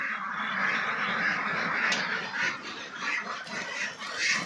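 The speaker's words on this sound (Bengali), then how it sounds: "তোমার খামারে হাঁস আছে এখন সাড়ে তিনশো হাঁস আছে" A flock of about 350 ducks on a Bangladeshi duck farm, producing a dense, continuous chorus of quacking and squawking at close range, with faint voices in the background.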